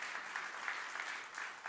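Church congregation clapping together during a sermon, a steady, fairly faint wash of many hands with slight rhythmic swells, no speech over it.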